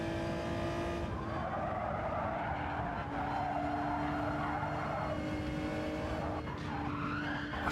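A race car slides with squealing tires in Gran Turismo 7, a continuous engine drone layered with drawn-out tire screech that rises and bends in pitch, steady and moderately loud with no talk.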